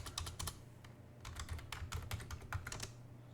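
Typing on a computer keyboard while entering Linux commands, a quick irregular patter of close keystrokes in short clusters with brief pauses.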